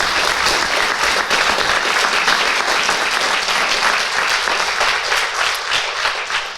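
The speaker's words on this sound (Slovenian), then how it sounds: "Še en aplavz, najlepša hvala." Sustained, dense audience applause fills a hall at the Slovenian Medical Chamber's formal awards ceremony, loud and even throughout with no talk over it.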